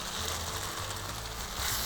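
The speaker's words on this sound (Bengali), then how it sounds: "আমি দিয়ে দিচ্ছি সেদ্ধ ছোলা।" Boiled chickpeas tipped into a hot pan for a keema boot masala, bringing a steady, loud sizzle and crackle of frying that holds through the short moment.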